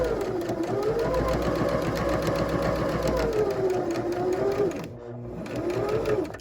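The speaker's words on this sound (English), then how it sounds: "I'm really taking you and showing you how we're stitching this waistband on one side" A sewing machine runs steadily, stitching along one side of a skirt waistband with a loud, continuous motor whine that rises and falls in pitch, then pauses briefly near the end before starting up again.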